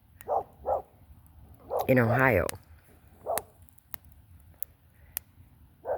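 A dog barks in short bursts scattered through the clip, a few close together early and more spaced out later, while a person talks over much of it.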